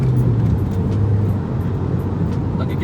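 Manual Honda Civic engine revving hard, a steady loud droning roar held throughout, close by, with a faint voice briefly underneath.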